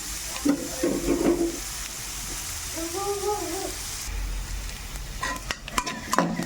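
Chopped vegetables and tomato fry in a pan for veg manchurian, with a constant sizzle and hiss, stirring scrapes, and brief bursts of clatter at the start and end.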